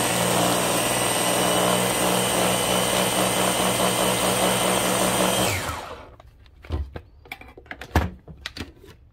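A food processor with its lid on grinds peanuts into homemade peanut butter, a loud steady motor whir and churn running for several seconds, then cutting off, followed by scattered clunks and light handling knocks.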